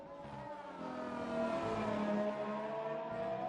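An AI-driven McLaren F1 race car in a racing video game rising in pitch and volume as it approaches and passes, a high engine whine that swells midway and then holds, with no talking over it.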